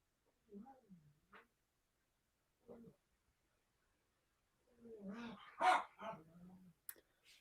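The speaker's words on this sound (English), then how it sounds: "I just heard her bark once." A pet dog indoors gives a few short, faint whines, then a single sharper bark, with long quiet gaps between the sounds.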